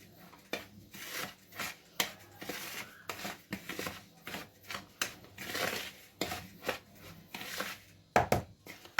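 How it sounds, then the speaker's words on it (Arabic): Rhythmic scraping and tapping of a utensil against a bowl as basbousa batter with baking powder is stirred, repeated strokes at a steady pace, close and fairly quiet. "هنقلب بقى كل المكونات"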